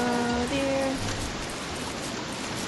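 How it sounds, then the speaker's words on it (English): Steady rain falls in the survival video game Don't Starve, a dense constant hiss of drops on the ground, with a brief tonal game sound fading at the start. "No one likes you, rain."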